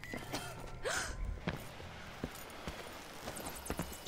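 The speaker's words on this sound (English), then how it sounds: "Stop gasping." Sharp gasping breaths from a character in Dishonored 2, played as Emily, come in a few short bursts amid light game footsteps and ambience, with no talk over them.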